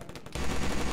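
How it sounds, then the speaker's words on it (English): Rapid automatic gunfire from a capture-the-flag video game erupts after a brief quieter lead-in and continues as a dense, loud burst. "Who's firing?"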